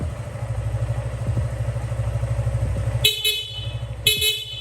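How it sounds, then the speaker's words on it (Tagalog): A Suzuki Gixxer 150 motorcycle engine idles with a steady putter, then its stock horn gives two short, bright honks about a second apart. "busina naman, stock horn"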